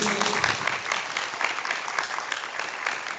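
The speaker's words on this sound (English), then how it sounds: "Can we get one more round of applause for this?" An audience at a community meeting claps steadily and densely, a full round of applause sustained close by without pause.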